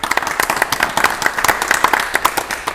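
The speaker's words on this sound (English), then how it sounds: "Give him a round of applause." An audience in a studio gives a brief, brisk round of applause for an antiques expert on a game show, with even clapping and no voices.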